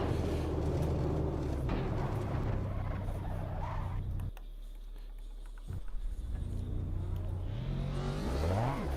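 Car engine droning steadily while driving the Shuto expressway at night in Assetto Corsa VR, loud and close, dipping briefly mid-run then revving back up to a rising whine.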